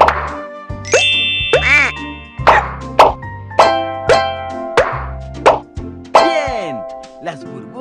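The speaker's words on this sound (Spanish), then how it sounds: "Ahora toca todas las burbujas para reventarlas." Bubbles pop one after another in a PAW Patrol puppy-washing game on Android, about eight bright plops in a steady rhythm over cheerful background music.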